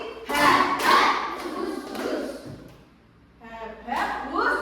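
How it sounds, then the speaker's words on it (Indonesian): Pupils in a fifth-grade classroom clapping game clap out a mosquito-and-wind pattern twice, a burst of loud near claps followed by a short pause and another run of claps, with children's voices mixed in. "Tepuk nyamuk, tepuk angin 2 kali."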